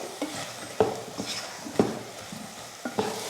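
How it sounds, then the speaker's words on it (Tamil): Masala being sautéed in a pan, a soft sizzle with a few distinct spoon knocks and scrapes as it is stirred, close and fairly quiet, with no talking. "நல்லா வதக்கி விட்டுருங்க. ஒரு 2 நிமிஷத்துக்கு இதுவும் வதங்கட்டும்."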